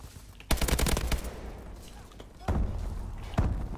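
AK-12 rifle fire in a first-person shooter video game, a rapid burst of loud cracks, then a quieter pause and two more short bursts, with players talking at the same time.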